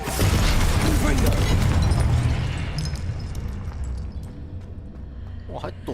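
A Confringo blasting-spell explosion in Hogwarts Legacy, a loud, dense burst right at the start that rumbles and slowly decays over several seconds, with scattered clicks and game effects trailing after.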